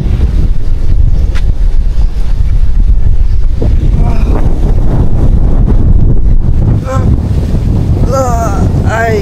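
Heavy wind roars loudly and without a break through swaying coconut palms outdoors, the gusts battering the microphone, with a voice talking over the noise partway through.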